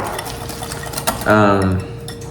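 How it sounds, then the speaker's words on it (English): A whisk or utensil working cream cheese in a bowl for cinnamon rolls, a few clinks against the bowl followed by a brief scraping stir, close and clear, with a voice briefly present. "Now I must whisk it."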